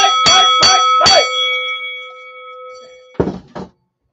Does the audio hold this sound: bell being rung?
yes